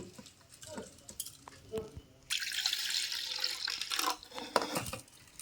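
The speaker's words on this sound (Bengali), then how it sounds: "এরপর জল দিয়ে ভালো করে এক থেকে দুইবার কিন্তু ধুয়ে নেব" Flattened rice (chira) being washed and swished in water by hand, a wet sloshing and stirring that turns louder and brighter midway, with a few drips and clinks.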